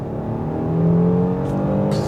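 A 2020 Genesis G90 with turbocharged engine and 8-speed automatic accelerating hard at full throttle, a steady rising engine drone heard from inside the cabin, loud and continuous with no talking.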